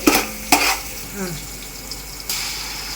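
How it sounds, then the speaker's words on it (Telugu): Ginger paste fries in a pan with a soft continuous sizzle, punctuated by a few sharp clanks of a utensil against the metal and quick stirring scrapes, close and fairly quiet. "అల్లం పేస్ట్ అయితే వేసుకున్నాం కదా ఇప్పుడు మళ్ళీ అది కూడా ఫ్రై అవ్వాలి"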